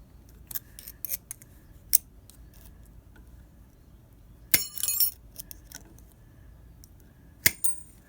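Scissors snip close by, several short crisp cuts, trimming excess material wrapped around while working on a Whitney punch, scattered sharp clicks between quiet pauses.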